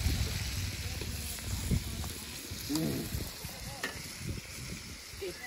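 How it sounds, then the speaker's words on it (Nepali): Chicken meat frying in a pan, a steady close sizzle with occasional stirring scrapes and clatter, while people talk nearby. "मासु फ्राई हुँदैछ चिकन फ्राई"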